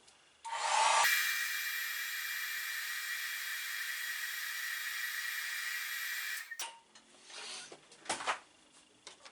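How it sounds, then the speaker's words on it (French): A hair dryer blows a steady, loud hiss while softening a decal on a Honda CBX 400F motorcycle, running continuously for several seconds before cutting off, followed by a few soft handling clatters. "Voilà, le fameux sèche-cheveux."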